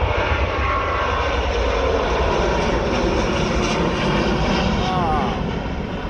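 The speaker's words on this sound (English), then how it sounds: "Frenchbee A350 Airbus." A Frenchbee Airbus A350 jet airliner on its takeoff roll, a loud continuous engine roar that stays steady throughout, with a spectator's voice heard over it.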